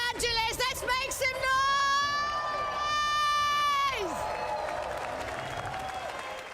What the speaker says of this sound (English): we want to hear an even bigger cheer for the Nations Cup Grand Final here in Los Angeles